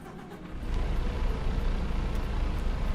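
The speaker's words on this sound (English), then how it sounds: "Oh, that's a loud engine." A loud truck engine in the game American Truck Simulator rumbles up after a short quiet start, then holds a heavy steady drone with no talking.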